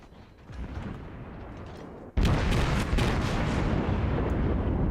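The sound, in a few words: warship guns firing repeatedly in a naval battle video game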